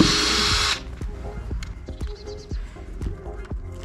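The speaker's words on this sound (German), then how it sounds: "Auch hier werden die Schrauben einzeln gelöst." A short burst from a power screwdriver loosens screws on a rusty steel pool lamp housing, then gives way to a series of light, irregular knocks and clatters as the parts are handled.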